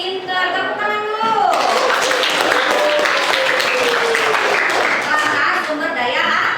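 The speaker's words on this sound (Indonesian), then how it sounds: "Pintar, tepuk tangan dulu." Children in a classroom clap together in a burst of applause that starts after a teacher's voice and continues steadily, with some kids' voices mixed in.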